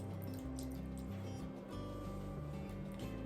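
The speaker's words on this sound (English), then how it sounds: "I'm gonna go ahead and add a full cup of soy sauce" A full cup of soy sauce poured into a measuring cup over ground ginger, a continuous close liquid trickle and dripping against a steady background hum.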